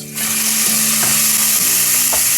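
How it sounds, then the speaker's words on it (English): Minced beef browning in a hot frying pan gives a loud, close, continuous sizzle with a few spatula scrapes and stirs, and no one speaks. "So you need to brown the mince, get a good colour till it's cooked all the way through and brown"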